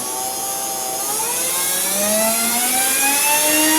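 Motor of an Ender 3D printer converted into an engraver revs steadily upward, a whining tone that climbs in pitch over a few seconds, loud and continuous with no voices.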